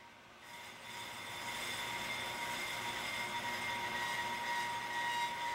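A Pro-Cut PFM 9.2 on-car brake lathe runs as its cutting bit touches the brake rotor, giving a steady mechanical whine with high metallic tones that swells slightly and then holds, up close.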